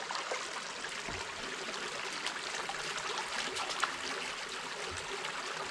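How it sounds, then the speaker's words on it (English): Cold mountain stream water flows steadily beside steep banks, a continuous soft hiss and trickle with faint gurgles, moderately distant and even throughout without talk. "Doesn't that water sound so peaceful?"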